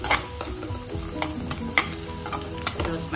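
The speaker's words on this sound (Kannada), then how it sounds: "ದ್ರಾಕ್ಷಿನ ಹಾಕಿದ್ದೀನಿ. ಸ್ವಲ್ಪ ಸಿಮ್ಮಲ್ಲೇ ಇಟ್ಕೊಂಡು" Raisins roast in a pan over a low flame for payasa, giving a soft, continuous sizzle broken by repeated scraping stirs and light clinks of a spoon against the pan, with no voices.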